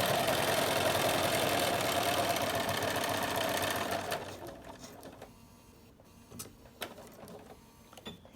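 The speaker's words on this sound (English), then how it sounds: "so that's where I'm going to sew to that crease." A sewing machine stitches binding along a fabric crease, running steadily and fairly loud for about four seconds, then stopping and leaving only faint small handling sounds.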